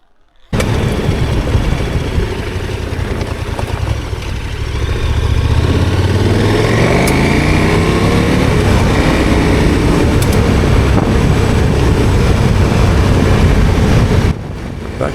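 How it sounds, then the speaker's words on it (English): A motorcycle rides a gravel road in Sweden, its engine note kicking in abruptly and then rising through revs under steady wind rush against the microphone before cutting off near the end. "Back on gravel again. Everything feels right when the road sounds like this."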